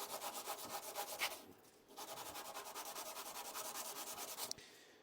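Brake pad rubbed back and forth across a flat surface to take the glaze off, a steady rhythmic scraping of strokes close up, pausing briefly partway before resuming.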